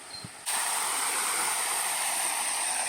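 Steady rushing water flows close by at a picnic spot in Cognac, a broad continuous wash of sound like a small waterfall or stream, starting abruptly and holding loud and even throughout.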